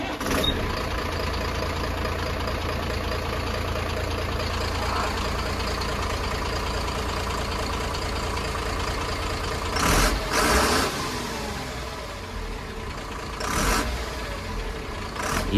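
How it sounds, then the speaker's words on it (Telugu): A BS3 diesel vehicle engine idles steadily at close range, a continuous rough rumble with a few brief sharp knocks or bursts near the end. "సో మన ఇంజన్ సౌండ్ ఎట్లున్నదంటే బీభత్సమైన సౌండ్."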